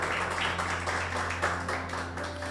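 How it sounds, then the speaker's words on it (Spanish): A church congregation claps and applauds together in a steady, rhythmic patter, moderately loud and sustained, over a constant low electrical hum. "Denle un fuerte aplauso al Rey"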